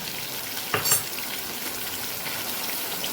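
Spices sauté with salt and chopped coriander in a pan for Kathiyawadi eggplant and potato curry, a continuous sizzle with a brief clatter of stirring early on, steady and close.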